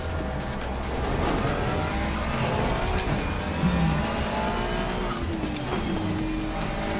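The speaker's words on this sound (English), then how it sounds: "That was a drift." Tires squealing through a drift on a GT3 race car in Assetto Corsa Competizione, sliding tones over a steady loud engine drone that carries on throughout.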